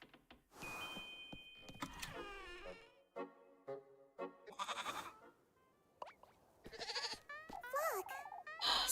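Goat bleating several times in wavering, nasal calls spread across the stretch, fairly close, with a person talking between the cries.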